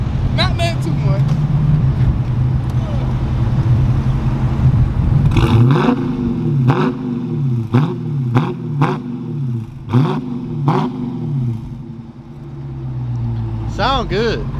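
A brand new Dodge Charger SRT 392 V8 revs repeatedly in short, loud bursts, rising and falling, with people talking over and between the blips.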